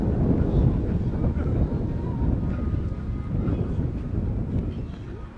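Wind gusts on a beach at Evrenseki in mid-April, buffeting the microphone with low rumbling roars that swell and ease unevenly over several seconds. No voices are heard.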